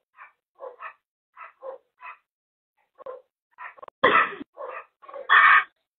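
Dog barks in a scuffle during an attempted dog theft, short yips and barks scattered through the moment, with two louder, harsher barks near the end; no talk is heard.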